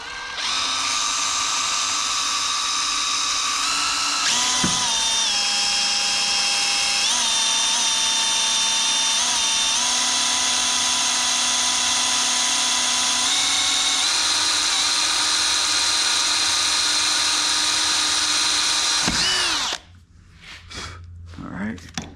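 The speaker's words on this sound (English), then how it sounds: "I'm gonna start with a small drill bit" A high-pitched power drill with a small bit whines steadily, changing pitch a few times as it bores, then stops abruptly, leaving faint clatter.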